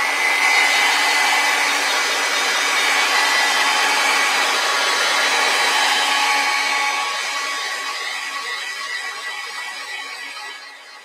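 Steady close whoosh of a hair dryer blowing over a watercolor painting of falling snow, loud and continuous before tapering slightly toward the end, with no talking.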